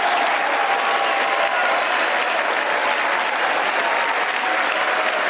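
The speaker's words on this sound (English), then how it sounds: "all the Democrats clap as he lied." Democrats applaud during a State of the Union address, a loud and sustained roar of clapping from a large crowd, steady and unbroken throughout.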